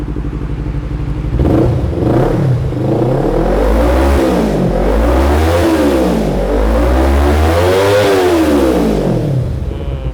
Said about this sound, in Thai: เดี๋ยวฟังเสียงเครื่องยนต์กันก่อนเลยครับ